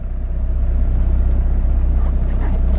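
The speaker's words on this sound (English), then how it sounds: "There's a lot of rattle, a lot of shake, a lot of vibration going on in the Land Cruiser" A Toyota Land Cruiser HJ91 idles close by with a loud, low, throbbing diesel rumble, its engine pulsing steadily while body panels rattle and shake faintly over the top.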